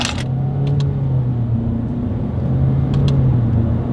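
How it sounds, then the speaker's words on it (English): A 2020 Honda HR-V with a CVT accelerates through paddle-shifted simulated gears, a steady close engine drone with rising tonal hum and brief shift breaks, heard from inside the cabin without talk. "here it is, paddle shifter test"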